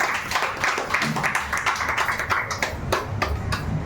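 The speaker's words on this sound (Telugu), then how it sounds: "ఒకసారి గట్టిగా చప్పట్లు కొడదామా?" An audience claps loudly and steadily in a crowd at a business talk, dense hand claps going on throughout without any speech.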